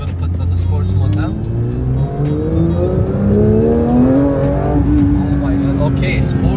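A Porsche 911 GT3 in sport mode accelerates hard, its engine note climbing steadily in pitch as revs rise, loud and close throughout, with a voice speaking over it.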